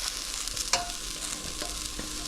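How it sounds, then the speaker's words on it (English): Vegetables stir-frying quickly in a hot pan for prawn and chorizo fried rice, a steady close sizzle with a few brief scraping stirs, no voices. "I just want to fry them very quickly"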